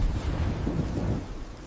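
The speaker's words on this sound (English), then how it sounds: "Storm's spinning up." A thunderstorm with wind and rain gives a steady, dense, low rumbling roar that fades slightly toward the end, with no voices.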